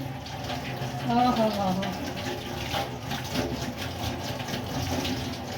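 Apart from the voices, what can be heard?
water running from a tap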